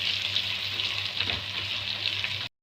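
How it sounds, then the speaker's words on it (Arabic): Garlic frying in a little oil, a steady close sizzle with bright crackling and occasional spatters that runs continuously, then cuts off abruptly. "ادي التومه اهي تحمرها في شويه زيت"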